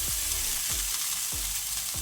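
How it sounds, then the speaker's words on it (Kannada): Crushed onion frying in oil on a tawa over a low flame, a steady hiss with a few sharp sizzling bursts as the pieces hit the hot oil, close and fairly quiet. "ಈಗ ನಾನು ಒಂದು ಮೀಡಿಯಂ ಸೈಜ್ ಈರುಳ್ಳಿಯನ್ನು ಜಜ್ಜಿ ಹಾಕ್ಕೊಳ್ತೇನೆ"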